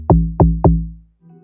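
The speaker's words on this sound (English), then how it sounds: "I then came in with a log drum, and this is a preset I actually made." Amapiano log drum preset in FL Studio: three loud, deep, resonant booming hits in quick succession, each decaying with a woody tonal ring, followed by a faint tail.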